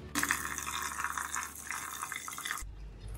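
Tap water pouring into a basin of small shrimp being rinsed, a steady close splashing gush that cuts off abruptly near the end.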